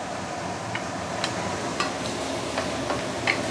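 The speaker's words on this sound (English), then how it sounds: "Dried shrimp will need some hot oil to really enhance the flavor." Dried shrimp sautéing in hot oil for a vegetable curry, a soft steady sizzle with a few faint utensil clicks scattered through, no talking.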